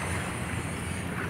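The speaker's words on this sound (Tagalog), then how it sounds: "talagang malakas ang simoy ng hangin, at malakas ang hangin dito, malakas ang mga mga alon" Strong wind gusts and waves roll along the shore of Manila Bay, forming a continuous loud roar of rushing air and water with steady buffeting against the microphone.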